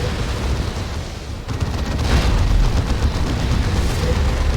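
Orbital strike explosions in Warhammer 40k: Dawn of War 2 rumble through a dense battle soundscape, a heavy impact at about one and a half seconds swelling into sustained booming roar.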